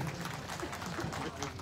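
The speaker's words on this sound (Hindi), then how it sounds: "एक बार जोरदार तालियां प्लीज" An audience applauds at the All Nyishi Students' Union 40th Foundation Day event in Itanagar. The clapping is continuous and moderately loud, mixed with crowd noise and some voices.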